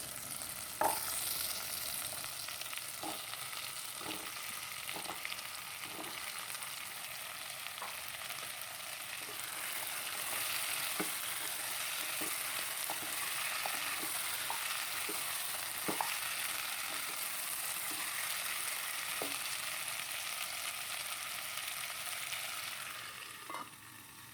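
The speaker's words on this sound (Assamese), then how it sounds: "ঢাকনি দি ভাজি আছোঁ।" Chicken fries in a covered pan with a soft, even sizzle and scattered pops and crackles, faint and continuous.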